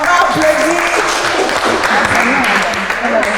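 A game-show audience applauds the winners, dense continuous clapping that is loud and close, with voices and shouts mixed in throughout.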